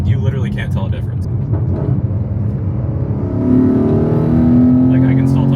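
Porsche Cayenne GTS with a cat-delete exhaust revs at redline in sixth gear under sport mode, a steady engine drone that climbs into a louder, higher sustained whine partway through, with someone talking over it.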